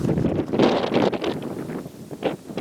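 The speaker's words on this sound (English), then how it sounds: "This wind's kind of swirly around this open." Gusty wind buffets the microphone outdoors in freezing weather at an open hunting spot. It gives low, rumbling bursts that rise and fall irregularly and are loud and close throughout, with no one talking.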